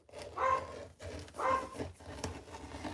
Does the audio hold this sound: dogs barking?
yes